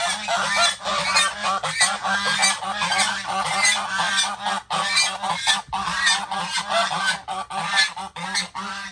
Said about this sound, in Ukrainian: А там гуси, друзі. Не хочу до них йти, звичайно. Кричать весь час.